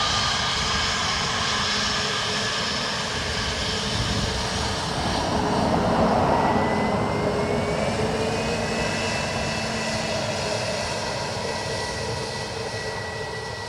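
An airliner lands on runway 28 left at Dublin Airport, its jet engine roar loud and steady throughout, swelling slightly near the middle, with a faint rising whine as it passes.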